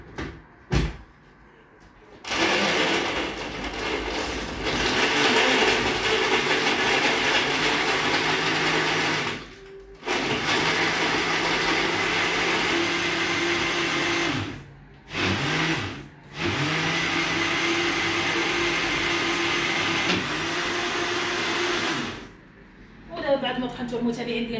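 A kitchen blender grinding lemon juice ingredients with water, a loud continuous motor whir in several long bursts separated by brief stops, with a short pause and restart near the middle, no talk over it.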